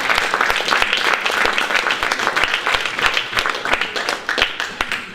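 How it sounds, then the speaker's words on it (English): Enthusiastic round of applause from an audience at a group talk, dense clapping with sharp individual claps standing out, loud and continuous. "give them a round of applause, just get your round of applause"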